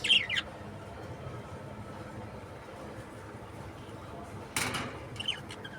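Pet lovebirds chirp near their cage, giving short, faint tweets at the start and again near the end over a low, steady background hum.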